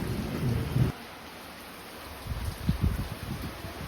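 Heavy evening rain pouring down in rural Tamil Nadu, a dense steady hiss with a low rumbling swell at the start and again near the end, fairly close and with no voices.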